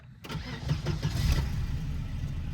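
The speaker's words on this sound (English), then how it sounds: "Do a nice little cold start with it." A Volvo 240 cranks over cold and catches, the starter's brief whir giving way to a steady, loud idle that holds close by for the rest of the moment.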